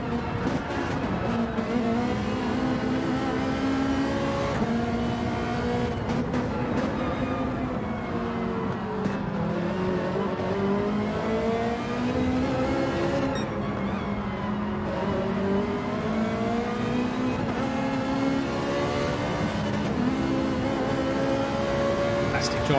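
Onboard a Ferrari race car during an E Challenge race, the engine roaring continuously as it revs up and down through gear changes, loud and close, with commentators talking over it.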